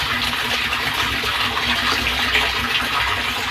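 An electric water pump motor runs while water rushes through a newly fitted non-return valve on a tank line, producing a loud, steady hiss and gush with no pauses.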